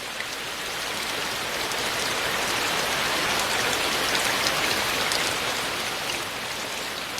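Steady rain pattering on the walls of an old Buddhist temple, a dense even hiss of drops with no pauses, close and moderately loud throughout.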